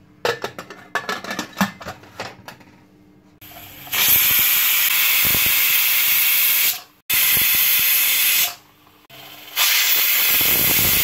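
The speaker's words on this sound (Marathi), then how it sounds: "आता मी कुकरचं झाकण लावून 5-6 शिट्ट्या काढून घेते आणि शिजवून घेते।" A pressure cooker with sweet potatoes inside lets out several loud, sustained bursts of hissing steam whistle, briefly cut off between blasts and preceded by a few seconds of quieter kitchen clatter.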